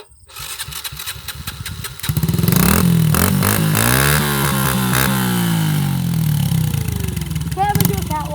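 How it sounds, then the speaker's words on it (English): Electric-start dirt bike engine cranks and fires at about two seconds, then runs loud and close with a rising, falling rev through the rest, a voice briefly heard near the end. "Today I'm going to be showing you how I ride my dirt bike."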